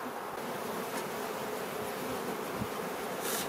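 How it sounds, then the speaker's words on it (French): Steady, dense insect buzzing fills the clip, a continuous close-up drone of many honeybees in a hive with no talking. "elle manque un peu d'abeilles"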